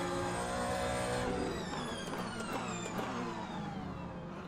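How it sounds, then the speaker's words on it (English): An LMP2 prototype racing car in Le Mans Ultimate at Spa-Francorchamps drops through its gears with falling engine whines, a loud, high-pitched racing engine revving down in quick stepped downshifts with no talk. "Did you hear that immersive sound of the LMP2 downshifting?"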